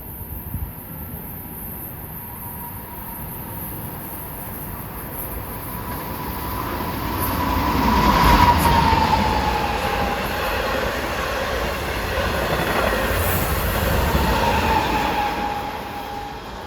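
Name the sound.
LIRR dual mode train at Forest Hills station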